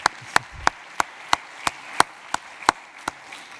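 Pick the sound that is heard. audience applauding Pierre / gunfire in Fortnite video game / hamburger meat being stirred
audience applauding Pierre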